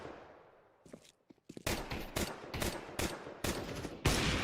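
Counter-Strike match gunfire: a few scattered sharp shots, then repeated loud rapid bursts of automatic fire, close and punchy.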